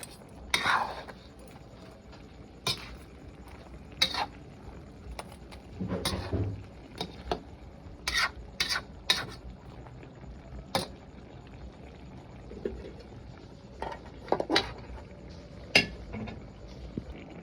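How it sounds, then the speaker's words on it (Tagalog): A spoon stirs string beans into a crab and coconut milk stew in a pot, giving scattered metallic clinks and scrapes at an irregular pace against a quiet background. "Ilagay natin na yung sitaw. I-mix natin."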